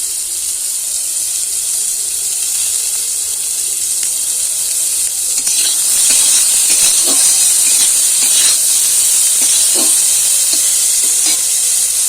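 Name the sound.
frying vegetables with carrots in a pan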